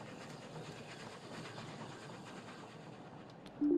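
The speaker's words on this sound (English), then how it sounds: "Are those 2 trains?" Trains rolling along in the factory-building game Oddsparks, heard as a steady rumbling, clattering wash of rail noise at moderate volume, with a short clunk at the very end.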